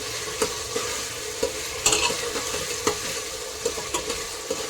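Ginger and garlic stirred into potatoes and peas in a pan for Gujarati matar pulao, a spoon scraping in regular strokes over a steady light sizzle, close and clear with no talking.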